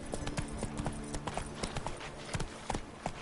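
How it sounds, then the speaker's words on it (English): A horse trots in The Witcher 3: Blood and Wine, hooves clip-clopping in a quick, steady rhythm, close and clear, for a few seconds. "Run, Roach"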